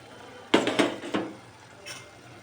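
Tomato pieces tumble into a pan of mutton and drumstick curry, three quick close clatters and thuds in the first second, then a softer scrape; no talking.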